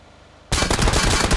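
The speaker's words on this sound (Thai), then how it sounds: "เฮ้ยมันยิงรถกูระเบิด" Automatic gunfire erupts abruptly after a half-second of quiet in PUBG, a loud, dense burst of rapid shots from a firefight near a vehicle that keeps going to the end.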